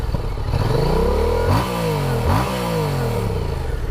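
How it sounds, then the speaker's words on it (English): A stock 2016 Yamaha FZ-07 (MT-07) motorcycle engine revs hard and close, climbing steadily, then two sharp throttle blips drop and rise again before settling into a loud idle-like rumble. "Let's get this thing revved up."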